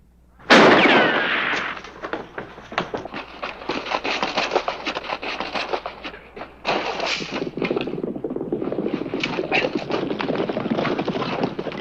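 Gunfire in a western TV shootout, a loud opening shot followed by dense rapid cracks and reports continuing through the scene, with no talking.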